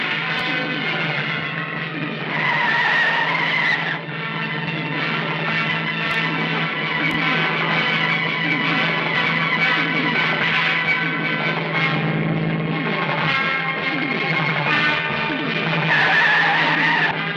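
A car skids during a chase, with a sustained, loud, distorted tyre squeal and engine roar lasting throughout, close and continuous with no clear gaps.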